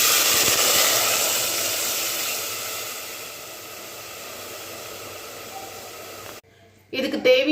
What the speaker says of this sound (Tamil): அந்த தேங்காய் பால் இப்போ நான் ஊற்ற போகிறேன்